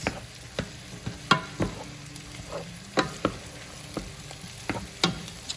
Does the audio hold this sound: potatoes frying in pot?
yes